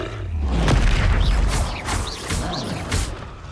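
Bombarda blasting spell going off in the Hogwarts Legacy video game: a heavy, booming low-end burst that swells then trails into rumbling debris, with several sharper crackling hits and whooshes following in quick succession.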